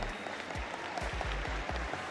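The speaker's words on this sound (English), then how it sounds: "give a big round of applause to Sarah Kipp and Norwalk Schools" An audience at a volleyball all-star event applauds in a school facility. Dense clapping holds steady and fairly loud throughout the short stretch.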